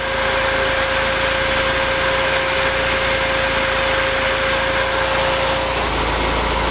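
A turbocharged Toyota MR2 engine idles steadily at close range after its base ignition timing is set, a loud, continuous even drone with a constant whine running throughout and no pauses.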